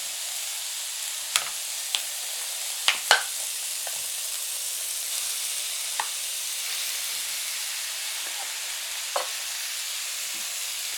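Sausages frying in a pan alongside shallot and vegetable pulp, a steady soft sizzle throughout with a few sharp pops and crackles scattered over about eleven seconds, quiet and close with no talking.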